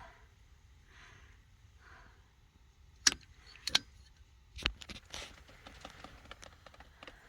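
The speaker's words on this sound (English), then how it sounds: "So the first thing I'm going to do is make this cut with PEX cutters." PEX cutters snip through PEX water pipe in a quiet setting, making a few sharp close clicks and snaps followed by light scraping and handling noises.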